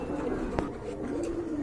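A breeding pair of pigeons gives low murmuring coos close by, with a sharp click partway through and a soft voice faintly in the background.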